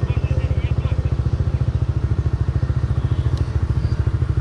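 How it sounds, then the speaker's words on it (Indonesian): A loud motorcycle engine thrums in a fast, steady pulsing beat, close and continuous throughout a ride, with no other sounds standing out. "Bunyi motor dia bising."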